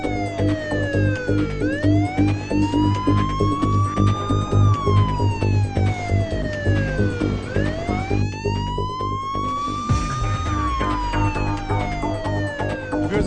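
An ambulance siren wailing continuously in a blocked, jammed road, loud and close with rising and falling sweeps over a steady traffic rumble.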